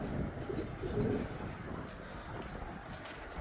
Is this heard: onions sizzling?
no